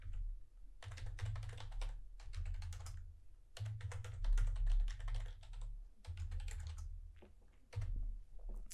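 Rapid bursts of keystrokes on a computer keyboard as a password is entered during a WordPress site setup, close and clear, in uneven runs with short pauses and no talking.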